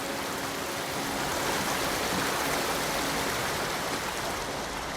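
A waterfall in the video game Ghost of Tsushima pours in a dense, steady roar of rushing water, loud and unbroken throughout with no voices.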